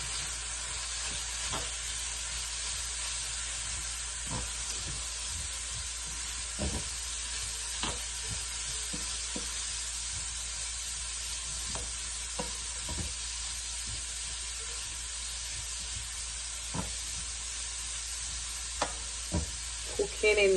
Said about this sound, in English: As the onion gets tender, I'll add in my cauliflower rice.